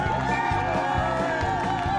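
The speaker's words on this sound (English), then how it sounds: "Another big round of applause for Zach and all his crew" A live audience at a Dallas stage show, gathered around a giant beer can escape stunt, cheers and applauds steadily, with whoops and voices rising from the crowd throughout.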